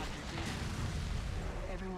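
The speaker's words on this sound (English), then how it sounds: "Explosions all around." Explosions in the video game Darkwatch rumble with deep, muffled booms and crackling bursts in quick succession, fairly faint and blended with voices talking over the game.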